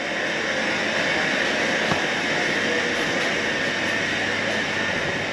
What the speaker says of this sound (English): got a javelin coming nearby